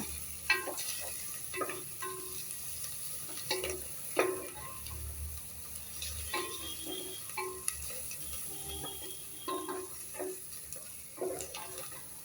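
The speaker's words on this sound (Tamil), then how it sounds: "நல்லா கிண்டி விடுவோம்" Basmati fried rice is stirred in a pan, with quiet, irregular scraping taps of the utensil over a low, steady sizzle, heard alone without talk.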